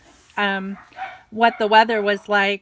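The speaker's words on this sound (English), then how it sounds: "Sorry about the barking. Our dog is just going a little bit nuts right now." A pet dog barks at home, several sharp barks in quick bursts, close and loud, with someone talking briefly in between.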